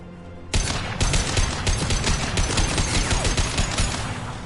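Turret gunfire in the sci-fi shooter Mass Effect 2: a loud, sustained automatic burst of rapid shots that starts abruptly and rattles on steadily without pause.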